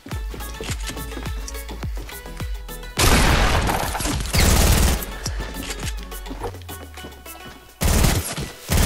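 A video game is playing loud, sustained machine gun fire. Rapid bursts mix with booms and crashing impacts in dense volleys, with brief lulls between heavy stretches.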